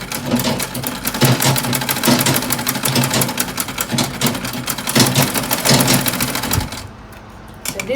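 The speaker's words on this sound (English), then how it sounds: "So I'm going to go ahead and sew my dart here." Sewing machine stitching a dart in an organza gown: a fast, steady mechanical needle chatter, loud and close, running continuously before stopping near the end.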